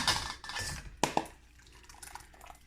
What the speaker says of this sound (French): une fois que c'est bien mélangé, on va venir le passer au passoire